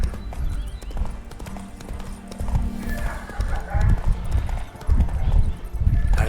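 Roach, the horse in The Witcher 3, clops along at a run with rapid hoofbeats and a brief whinny, mixed with game sound effects and music, while a person talks over it.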